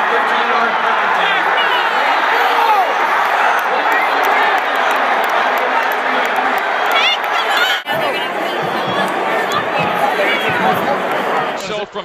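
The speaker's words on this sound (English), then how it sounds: "Crowd rush the field." A football crowd rushes the field at a Utah versus BYU game in 2012: loud, constant cheering and crowd roar fill the whole stretch, with a sudden brief dip partway through before the din resumes.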